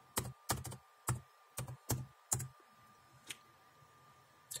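A password is typed on a computer keyboard in quiet surroundings, about eight separate soft keystrokes in an uneven rhythm, close and alone, with no talk.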